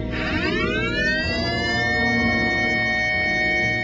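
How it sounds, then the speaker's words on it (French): A loud tsunami warning siren winds up from low to a high, sustained wail, holding steady with rumbling traffic noise beneath. "Quand les sirènes se mettent à hurler, c'est le temps de procéder à l'évacuation du littoral."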